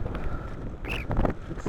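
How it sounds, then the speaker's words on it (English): Wind rushing past a recumbent ice trike ridden around Kent, a steady, close, blustery roar buffeting the microphone, with a brief spoken word over it. "It sounds a bit windy, but it's not actually that windy, it's just the vector wind off the Trike."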